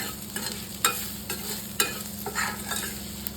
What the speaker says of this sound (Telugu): మనకి కావాల్సినంత ఉప్పు కారం వేసేసుకుందాం. వేసుకుని బాగా కలిపేసుకుందాం.